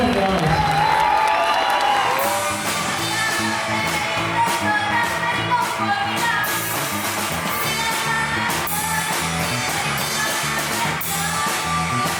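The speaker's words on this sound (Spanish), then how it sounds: "Vamos a darle un aplauso bien fuerte a los papás" Applause and cheering from a graduation ceremony crowd honoring the parents, a dense sustained roar of clapping with whoops and a steady low musical bed beneath, loud and continuous throughout.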